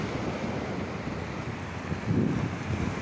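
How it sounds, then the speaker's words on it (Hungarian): Waves washing on the Sea of Marmara shore in Istanbul, a steady surf roar under gusting wind on the microphone, with a fuller surge near the end. "Hullámzik a Márványtengerünk."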